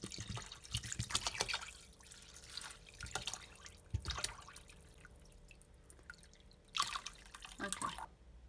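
Water splashes and trickles into a cooking pot in uneven bursts, with faint drips and gurgles between pours, close by and fairly quiet.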